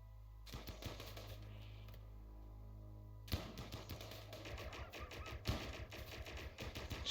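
Heavy SMG and assault rifle gunfire in the video game RimWorld comes as rapid bursts of sharp shots over a steady low hum, with several distinct volleys and a quieter gap between them.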